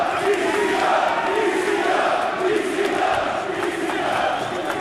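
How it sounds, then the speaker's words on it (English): A wrestling arena crowd at a pay-per-view preshow stirs and rises, a loud, sustained roar with swelling waves of cheering and shouting, no single voice standing out. "Hey, the crowd is stirring. Crowd to their feet."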